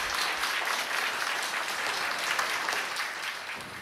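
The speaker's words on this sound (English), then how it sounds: "Give a big clap." A crowd keeps up a dense, even wash of applause for nearly four seconds, sustained at a steady level.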